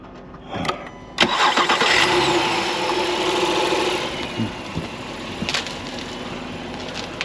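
A diesel vehicle engine is cranked after an oil change and catches, a brief starter whirr followed by a loud, steady running rumble that settles toward idle.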